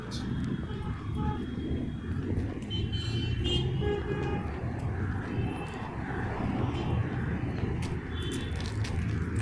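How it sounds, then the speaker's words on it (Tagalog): Heavy traffic streaming past near a park in Saudi Arabia, a constant dense roar of engines and tyres with occasional horn toots, with a person talking over it. "ang daming sasakyan"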